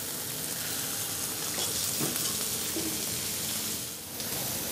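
Apple rings fry in oil in a pan, browning to a light crust, giving a steady, close, even sizzle and crackle that holds throughout without any talking.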